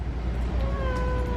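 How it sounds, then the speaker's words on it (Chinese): A house cat meows indoors in one drawn-out, rising cry that is clearly tonal and fairly close, over a low rumbling background with no clear speech. "我们家的猫， 天天就知道叫。"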